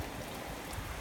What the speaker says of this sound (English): Wow, this rain is mental.